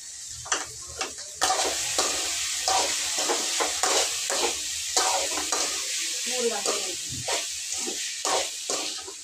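Ivy gourd (dondakaya) pieces fry with turmeric in a pan: a continuous sizzle broken by frequent scraping stirs of the spoon, close and fairly loud.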